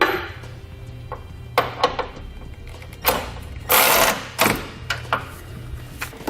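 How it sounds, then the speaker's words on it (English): Ratchet clicks and metallic clanks ring out while a 19mm socket snugs down bolts on a Curt trailer hitch fitted to a 2019 Lexus NX 300, in short close bursts with pauses between. "Now we'll use a 19mm socket. We're going to snug down all of our hardware."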